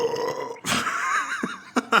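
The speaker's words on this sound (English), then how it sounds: "If you could see the waveform of that burp, you'd be fucking impressed" A man lets out a long, loud, rumbling burp after drinking Keo beer, heard close to the microphone with a couple of short vocal bursts trailing after it.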